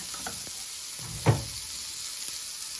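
Pepper steak sauce with milk and flour simmers in a pan with a steady soft sizzle, and a utensil knocks once against the pan partway through. Nobody talks.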